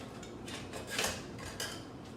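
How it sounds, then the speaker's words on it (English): Seasoning being stirred into flour in a bowl for battering chicken: quiet, continuous scraping and brushing with light utensil clinks against the bowl, close and steady with a couple of louder strokes, no voices. "we are going to mix the seasoning"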